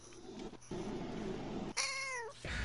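A cat meows in one drawn-out, rising and falling cry, close and clear, over steady background noise.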